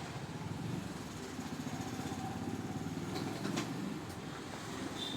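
Sewing machine stitching along a folded cloth edge of a double zip pouch, a continuous close mechanical whir with a rapid even needle rhythm, no talk.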